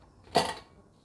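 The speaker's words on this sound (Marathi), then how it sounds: "आता आपण झाकण काढूयात." A pressure cooker lid comes off after the pressure has fully released, giving a single short metallic clink close by, followed by quiet.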